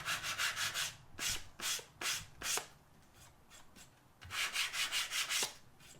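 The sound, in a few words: sanding wood by hand with sandpaper to chamfer an edge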